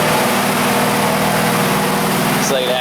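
An Audi B5 S4 Avant, stage 3 with K04 turbos, runs on an AWD dyno, its engine droning in a loud, steady, close hum with a slight shift in tone near the end.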